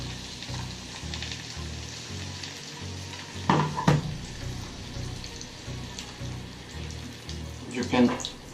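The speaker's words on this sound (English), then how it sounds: "We will use a strainer and we will strain" Sauce strained into chicken tinga cooking in a pan gives a steady frying sizzle with a brief splashing pour in the middle, and a voice talks over it throughout.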